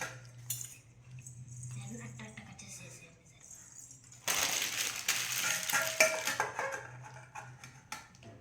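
Metal utensils and small pots clink and rattle as a child pretends to cook a bread omelette, with a busy stretch of close clattering and a voice faintly heard.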